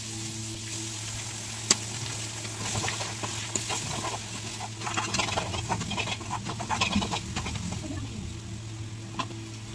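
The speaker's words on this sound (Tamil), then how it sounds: "2 முட்டை ஆட் பண்ணுறேன்." Two eggs cracked over cooked onions in a pan for egg noodles, a steady close sizzle with scattered crackles and spoon clicks, no talking.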